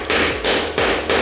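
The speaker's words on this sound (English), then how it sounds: "I'm going to tap it, but instead of damaging the screw by banging on a hammer, I've put one of the old nuts that I've just taken off on top" A hammer taps on an old nut placed over a pinball playfield screw, three loud, evenly spaced metallic knocks close by, each ringing briefly before the next, with no talk.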